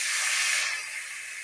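Boiled lentils hit a pan of frying ginger with a loud, bright sizzling hiss that quickly eases into a softer, steady sizzle.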